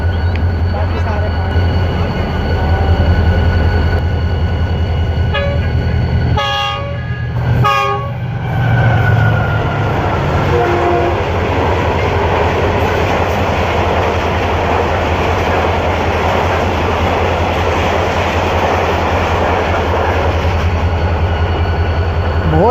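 The Jinnah Express roars through Dhabeji station at speed, with a long loud rumble of wagons, clattering wheels and sharp horn blasts close by, while a voice speaks over it.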